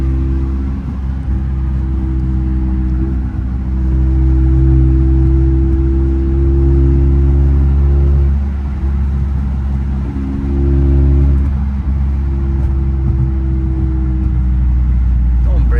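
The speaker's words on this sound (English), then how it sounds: "I want to keep the windows open just so you guys can hear the car from the outside a little bit." Catless Toyota Camry exhaust heard from outside with the windows open in New York City traffic: a steady deep engine drone with rising revs that swell and fall, while people talk in the cabin over it.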